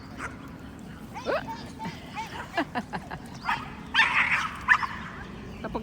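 Two small dogs yip and bark in quick sharp bursts, fairly faint, over a steady background hum.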